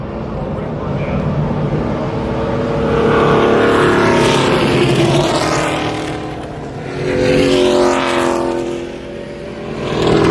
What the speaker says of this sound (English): I think I heard over the cars that Joe Nemechek did win this race.